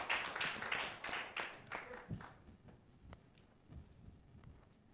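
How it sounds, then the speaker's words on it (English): An audience at a political news stage event gives a short burst of clapping that quickly thins into a few scattered, distinct claps and then fades to near quiet. "Round of applause, please."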